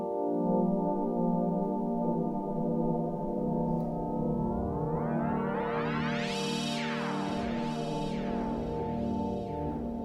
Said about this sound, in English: FM harmonics affects the frequency of the modulators,